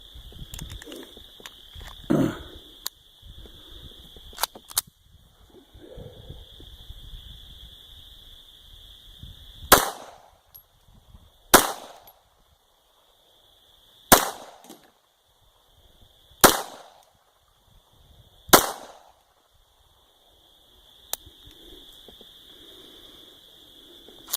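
Gunshots at an outdoor shooting range during an Easter trip, five sharp cracks spaced a couple of seconds apart over a steady high-pitched whine, with a few faint earlier pops and quiet pauses between shots.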